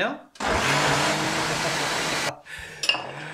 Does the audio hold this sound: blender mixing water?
yes